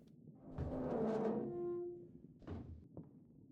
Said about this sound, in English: Doors are so loud.